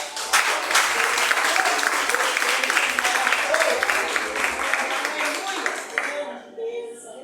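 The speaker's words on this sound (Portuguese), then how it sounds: "Aplaude em nome do Senhor Jesus." A church congregation applauds during a women's worship service, many hands clapping in a loud, sustained burst that tapers off in the final second, with voices faintly mixed in.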